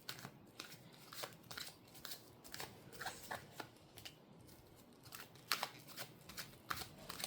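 Soft, quiet riffling and slapping of tarot cards being shuffled, a steady irregular patter of light papery clicks close by.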